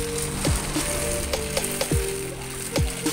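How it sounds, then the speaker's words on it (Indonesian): Banana churros dough sizzles steadily in hot frying oil, a continuous close crackle with occasional sharper pops and clinks, and no voices over it. "ini minyak gorengnya udah panas guys, kita celupkan sambil ditahan"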